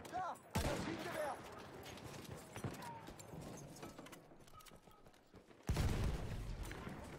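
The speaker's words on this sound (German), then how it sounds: "Da! Ein Maschinengewehr!" A machine gun in a video game fires in harsh rattling bursts, a loud one near the start and another later, with steady battle noise and a voice speaking between them.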